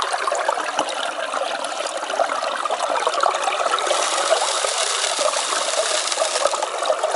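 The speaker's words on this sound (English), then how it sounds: "just running the sluice again" Water runs steadily through a gold prospecting sluice at Reedy Creek, making a continuous broadband rushing and trickling wash at an even level throughout, with no voices.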